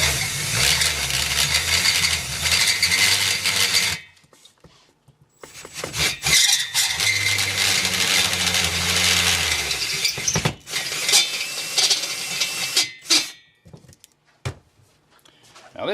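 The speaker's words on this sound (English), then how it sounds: "we got to ream these holes out with this particular ream" Piloted reamer opening up spark plug holes in a Corvair engine head, harsh scraping and grinding bursts of metal cutting broken by sudden stops and quiet gaps, close and loud.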